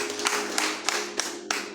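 Worshippers in a church clap in rapid unison, with several sharp accents standing out over a dense, continuous patter of hands and a sustained background tone.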